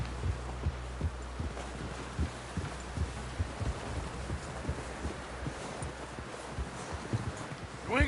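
Horse hooves clip-clop at a steady walking rhythm in the Red Dead Redemption 2 video game, a soft, even series of close, muffled thuds.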